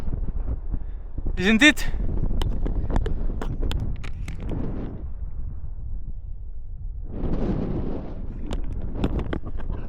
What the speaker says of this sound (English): the wind from the edge is actually quite nice